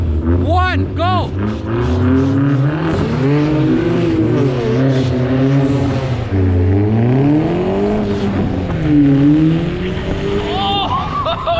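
Three cars race from a standing start on snow: a Hyundai Genesis, a BMW and a Corolla. Engines rev and climb through rising and falling pitch sweeps, with tires squealing, as excited voices shout over the loud roar.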